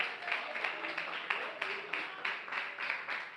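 A church congregation clapping in praise during a sermon, a continuous wash of many hands with rhythmic accents, heard in a reverberant hall with voices beneath.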